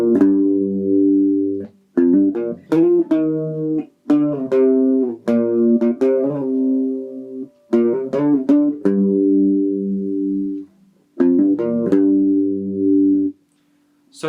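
Electric guitar plays a riff from a song, section A after the chorus, in a slow rhythm of sustained and clipped notes with short gaps between phrases, loud and close with no talking.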